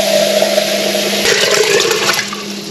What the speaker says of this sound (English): And then I'm going to put some water over here.